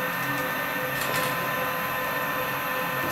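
A CNC machine axis jogs along under pendant control while work offsets are set in Mach 3, giving a steady, even whine and hum that lasts throughout at moderate level with no talking.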